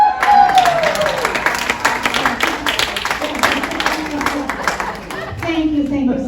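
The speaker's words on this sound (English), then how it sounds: "Let's give Dr. Alvarez a big round of applause" An audience in a health and wellness club gives a warm round of applause, a dense patter of clapping hands lasting several seconds, with an amplified voice speaking over it at the start and end.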